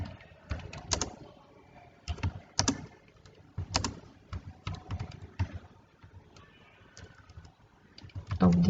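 Fingers tap out notes on a computer keyboard in quick uneven bursts of clicking keystrokes, close and fairly quiet, with short pauses between runs and no talking.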